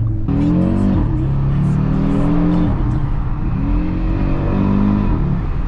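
A 400 hp 2020 Audi RSQ3 accelerates hard onto a motorway, its engine loud and close as revs climb in rising sweeps through gear changes, with no talk.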